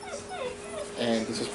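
Six-week-old German Shepherd puppies whimper and yip in a litter, their thin whines running continuously under a person talking nearby.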